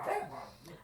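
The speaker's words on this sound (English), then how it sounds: "I'm sorry for the dogs today." Dogs bark in a quick short burst, somewhat muffled and moderately distant, with no voices present.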